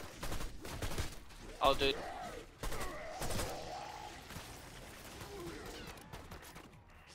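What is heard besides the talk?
gunfire from a video game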